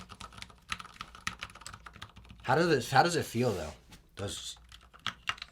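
Fingers type in quick, light clatters on a newly built mechanical keyboard, assembled by a parent and son. Bursts of keystrokes come close by, before and after a short stretch where people talk.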